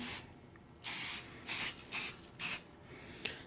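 Aerosol spray can hissing onto crochet spider webs laid out on cardboard, four distinct bursts of about half a second each with short pauses between, close and fairly loud over a quiet outdoor background.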